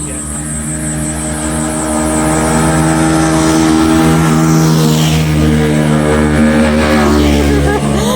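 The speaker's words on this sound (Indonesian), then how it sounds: "Waduh naik Vespanya. Keren Vespanya, pada Vespa semuaan." Vespa scooters ride past on a mountain road at Mount Kelud, a loud, close engine drone that swells and holds, with people talking nearby.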